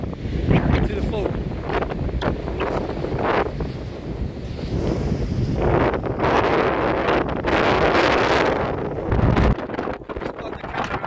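Strong seaside wind buffets the microphone with loud, continuous low rumble and gusts throughout, with brief surges and a sudden drop near the end.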